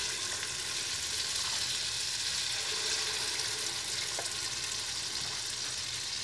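Ripe banana and wheat flour batter frying in hot oil, a dense continuous sizzle with faint crackles, close and steady throughout with no voices.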